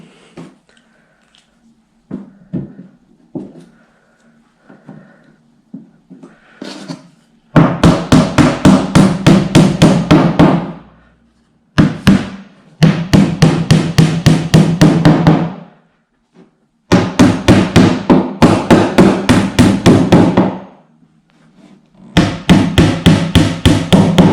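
Rapid, steady hammer blows drive wooden dowels into an IKEA Kallax shelving unit, coming in four loud bursts separated by pauses, with faint handling noises before the first burst.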